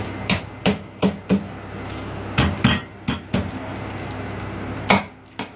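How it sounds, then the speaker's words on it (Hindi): Ginger pounded inside a bag, a series of sharp, hard thuds in loose clusters with short pauses between them, close and clear, with no voices. "हम अदरक को भी इसी तरह कूट देंगे जिस तरह हमने लहसुन को थैली के अंदर कूटा था"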